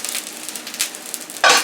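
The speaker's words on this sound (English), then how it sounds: "I'm going to leave the sausage in the frying pan, and now we're going to fry them." Link sausages frying in a frying pan after the water has been poured off, with a soft steady sizzle that swells into a louder burst of crackling near the end.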